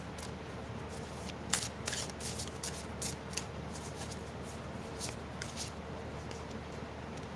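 Tarot cards being shuffled and drawn during a live reading, giving soft papery riffles and several crisp card snaps over a steady low background hum, with no talking.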